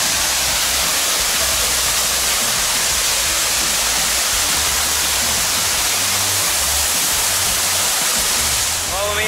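A waterfall that splits in two at the Cerro Hueco pools in Chiapas roars as a loud, steady, close wash of falling water filling the whole scene.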